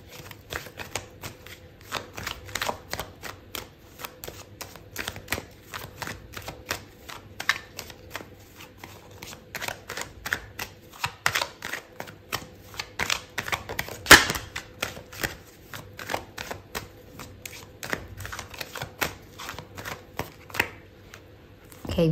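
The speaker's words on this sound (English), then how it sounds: "I'm going to pull out another card for you." Tarot cards are shuffled in a steady run of crisp riffling bursts and soft slaps that keeps going, close and fairly quiet, with no one speaking.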